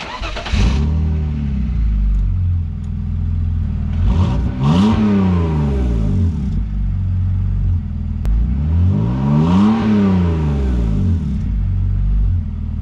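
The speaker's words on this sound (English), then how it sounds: "Oh yeah, it's muffler deleted now. I can't wait to see what this sounds like." A BMW E46 with its muffler deleted revs loudly and close by, its engine note climbing and falling in two distinct rev sweeps over a steady idle rumble, with no talk.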